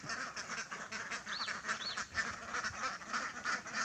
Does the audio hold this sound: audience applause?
no